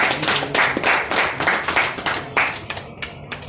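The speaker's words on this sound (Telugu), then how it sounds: "Please clap sir." An audience applauds at an awards program in a hall, a dense, steady burst of clapping that thins out toward the end, with no talk over it.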